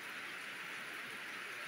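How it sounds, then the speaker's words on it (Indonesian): Heavy rain falling at a campsite at Puncak Halimun, Pancawati, Bogor, a steady dense hiss that holds unbroken throughout, with no voices over it. "hari ini hujan lumayan deras"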